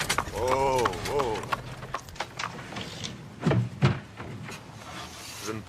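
A few hoof clops on hard ground, irregular and close, between bursts of talking and a brief horse whinny.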